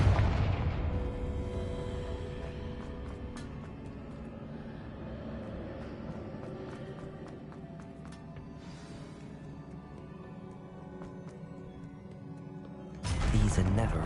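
Confringo fire spells in Hogwarts Legacy burst in booming explosions amid a continuous rumbling game soundscape of magical combat, with a sharp loud blast near the end.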